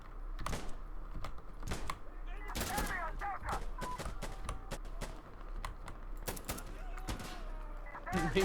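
Gunfire in Insurgency Sandstorm from an RPK, with repeated sharp shots and short bursts spread through a busy, loud game mix while players talk over it.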